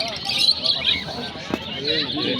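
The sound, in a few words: lovebirds chirping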